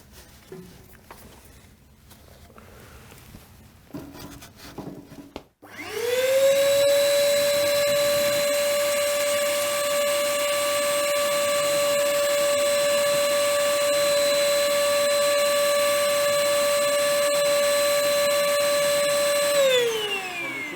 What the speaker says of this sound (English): We use an ash vacuum cleaner and some kitchen towel to ensure an optimal seal.